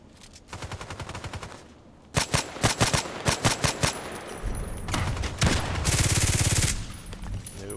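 An SVU-AS rifle fires in the online shooter Contract Wars: a rapid string of shots, then several distinct, evenly spaced loud cracks, followed by heavier continuous bursts. Faint speech sits underneath.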